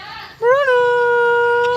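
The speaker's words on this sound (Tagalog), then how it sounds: "Dito rin yung aso ko si Bruno." A dog whines in a long, high, drawn-out tone lasting over a second, close by on a farm, with a faint earlier whimper before it.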